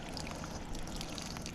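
Pink RV antifreeze runs from an RV's hot water faucet in a steady, close, faint pouring trickle with no pauses.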